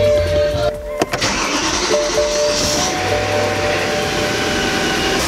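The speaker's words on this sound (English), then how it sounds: "I'm gonna start up the car, let it warm up" A BMW M3 engine cranks and catches about a second in, then settles into a loud, steady idle with a droning whine running throughout, close and without speech.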